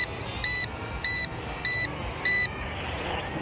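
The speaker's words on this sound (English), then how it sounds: "That beep is kind of annoying." Four evenly spaced electronic beeps from a drone controller, each a short double-toned chirp, ring out clearly over a faint background hiss.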